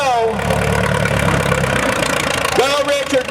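A tractor engine labors and lugs under heavy load during a tractor pull at a county fair, a loud, continuous low rumble with a rising tone near the end, while an excited crowd and announcer shout over it.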